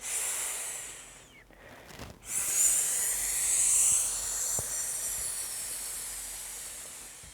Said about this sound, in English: we're going to add the healing sound for the lungs